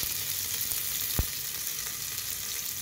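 Onions frying in a pan of hot oil with cardamom and cinnamon, a steady close sizzle running throughout with one brief sharp tap partway through.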